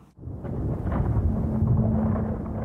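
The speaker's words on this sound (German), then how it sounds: "Doch dann soll Martin Luther beim Dorf Stotternheim in ein schweres Gewitter geraten sein" A deep, rolling rumble of thunder from a heavy thunderstorm swells after a sudden onset and keeps grumbling low and loud, with no talking.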